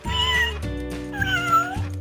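A cat meows repeatedly in drawn-out, wavering cries, loud and close, one after another with barely a pause between them.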